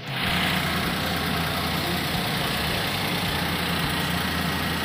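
A portable electric car tyre inflator pumping air into a car tyre, giving a loud, continuous motor drone with a dense, even buzz that holds steady without pause from start to finish.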